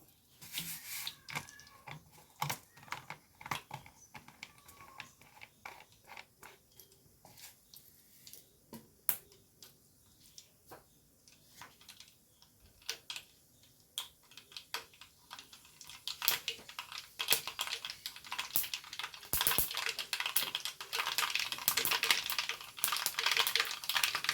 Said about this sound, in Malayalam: വെളിച്ചെണ്ണ ചൂടായിക്കുന്ന ഇതിലേക്ക് കുറച്ച് കടുക് ഇട്ട് കൊടുക്കുക